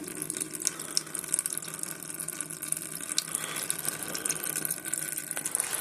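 Water drains steadily out of an antique McCulloch generator that sat in a flooded basement, a continuous close trickling splash with no talking over it.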